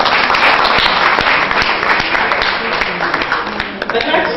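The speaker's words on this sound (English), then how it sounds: "Please give her a round of applause." Audience applause at a Lagos State ceremony with a mosque flag-off and fire service agency opening, a broad steady wash of clapping lasting the whole stretch, loud and close with a few sharper individual claps.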